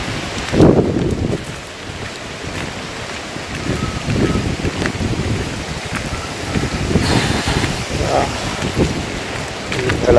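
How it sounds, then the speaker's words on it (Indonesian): Strong wind gusts swirl with steady rain around a factory yard in a storm, a broad continuous roar with rising and falling surges, the rain hissing throughout. "tuh anginnya muter-muter."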